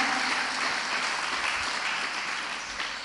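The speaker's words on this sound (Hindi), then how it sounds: "तालियां बजा के उनका स्वागत करें।" A crowd at a Jain religious discourse claps steadily throughout, dense and sustained, slowly tapering toward the end.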